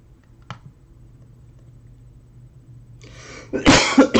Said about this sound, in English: Sorry, another cough there.